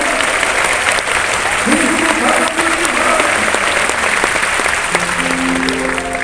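A church congregation claps hands together in praise, a steady wash of applause filling the room, with a few sustained musical or vocal tones rising near the end.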